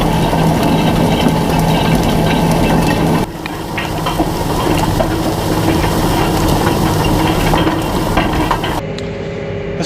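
A tractor tilling a 46-acre field gives a loud, steady engine drone with broadband rumble that carries on without a break, shifting slightly in tone about a third of the way through.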